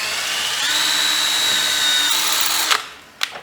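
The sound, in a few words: power drill drilling a hole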